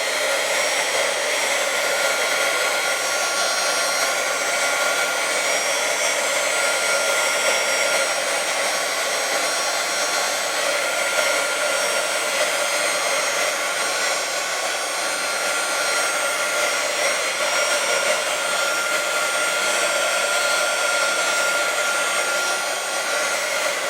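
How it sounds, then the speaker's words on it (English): A heat gun blows a steady, loud, unbroken airy roar while drying paint on scrap wood, constant throughout with no speech. "you want to keep your heat gun moving so that it doesn't over dry out a certain"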